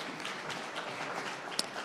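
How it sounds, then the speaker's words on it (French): A pitch-event audience applauds after a short startup pitch, a dense, even patter of many hands clapping fairly close and loud, with one sharp brighter clap standing out near the end. "vous pouvez l'applaudir"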